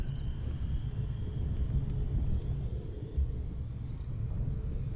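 Military jets from the 494th squadron on approach to RAF Lakenheath, a steady distant low rumble of engines holding throughout with no voices.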